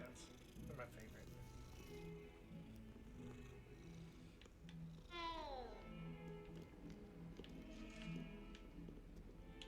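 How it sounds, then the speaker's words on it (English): Cats meow inside a wizard video game, with a rising and falling meow near the middle over steady game music and ambience, while a person talks throughout. "I gotta pet the cats. I like cats."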